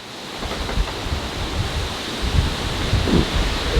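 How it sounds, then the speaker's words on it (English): Strong 30 mph wind gusts drive sideways rain on an off-grid farm in Panama, a dense, roaring rush of wind and rain buffeting the microphone, loud and continuous with surging peaks. "We're getting 30-mile-an-hour gusts right now and it's raining sideways."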